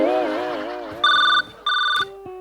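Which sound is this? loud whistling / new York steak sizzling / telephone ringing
telephone ringing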